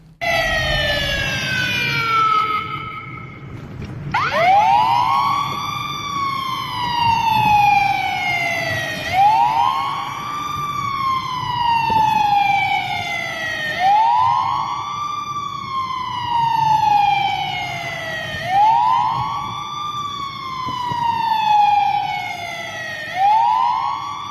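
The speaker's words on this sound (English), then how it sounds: "this other person who was now attaching that mic with the police siren" A police-style siren played through a loudspeaker mounted on a car, wailing in repeated rising and falling sweeps, loud and close over low traffic rumble, with no voices.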